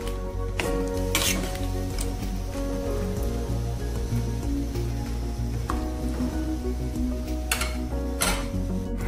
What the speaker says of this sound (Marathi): गदका शिजायला लागतो.